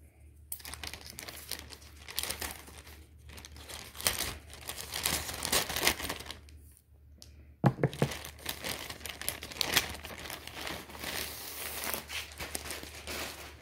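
Diamond painting parcel from Myth of Asia being opened by hand, its plastic packaging crinkling and tearing in close, continuous bursts with brief pauses, loud and unaccompanied by any talk.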